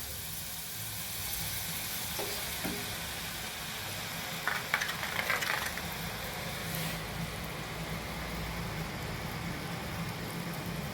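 Boondi batter fries in hot oil for Deepavali snacks, a soft continuous bubbling sizzle with a few faint clinks midway, fairly quiet and steady with no voices.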